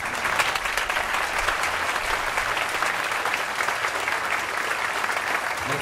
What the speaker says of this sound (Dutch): Uw applaus voor Valerius.